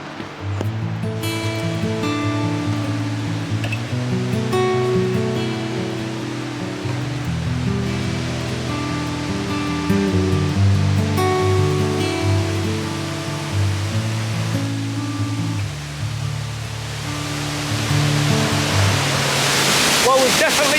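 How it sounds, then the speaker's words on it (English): Sgwd Eira waterfall in the Brecon Beacons pours in a loud, steady broadband roar close by, continuous throughout, with a voice speaking over it. "we've definitely found waterfall number 2"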